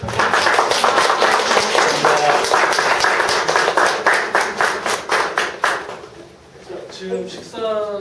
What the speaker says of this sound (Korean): 오늘 다시 한번 강의해주신 연사님께 큰 박수 부탁드립니다.